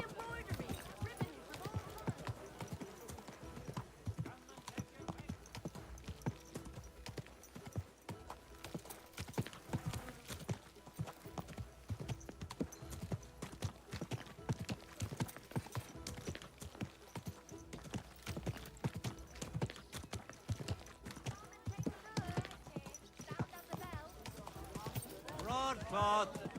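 A horse's hooves clop in a steady, continuous rhythm through a medieval town street in Kingdom Come Deliverance 2, with merchant voices calling out their wares and a rider talking over the hoofbeats.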